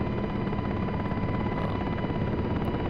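A UH-60L Black Hawk helicopter in the DCS flight simulator gives a dense, steady rotor and turbine drone with a fixed whine, loud and continuous, with no speech.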